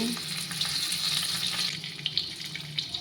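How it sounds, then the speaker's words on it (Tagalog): Garlic sautés in a hot pan with a close, crackling sizzle and a few stirring scrapes. "So magisa na tayo ng bawang"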